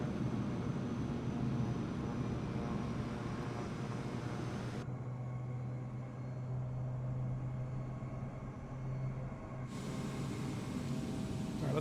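Distant airliner landing in Microsoft Flight Simulator 2024, a steady broad jet roar and rumble that holds throughout at moderate level, with a brief dip in the high hiss midway.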